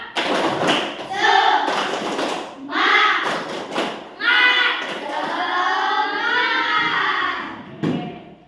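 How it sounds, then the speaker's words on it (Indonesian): A class of children in a classroom performs the rhythmic 'tepuk semangat' clap, with loud, close thumping claps in a patterned beat mixed with the children's chanting voices. "sebelum presentasi kelompok, kita tepuk semangat dulu ya"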